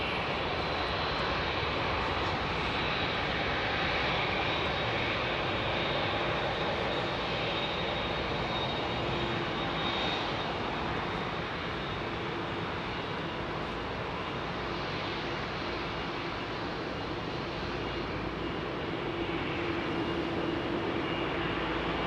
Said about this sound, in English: It's a United Dreamliner.